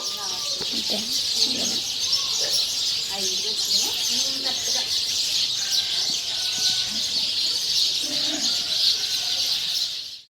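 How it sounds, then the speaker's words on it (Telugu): Dense, high chirping of many birds fills the air continuously, a lively outdoor chorus with occasional faint voices beneath it. "పక్షులు ఎంత బాగా సౌండ్ చేస్తున్నాయి"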